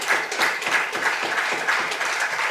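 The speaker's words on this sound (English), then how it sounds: "I can see the Lord Mayor clapping" Applause at a public gathering, with the Lord Mayor among those clapping: a sustained crowd clap with a faintly rhythmic pulse running through it, steady and fairly close.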